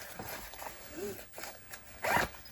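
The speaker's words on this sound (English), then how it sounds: "zip it up" A zipper being pulled shut on a small wash pouch holding folded period underwear: a few short, quiet zips and rustles, close and soft, ending in one brisker pull.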